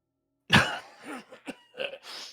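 A short, harsh cough bursts out loudly, followed by a few weaker, rasping coughs and throat sounds trailing off.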